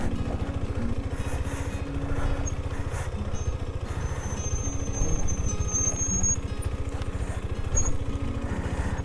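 Motorbike engine running steadily while riding a rough, difficult descending mountain road toward Chitkul, a loud close continuous throbbing drone with no talk.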